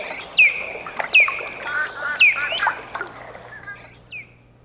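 An osprey, the fish-eating hawk, gives a series of loud, sharp whistled cries, several piercing chirps in quick bursts close by, ending with a fainter final call.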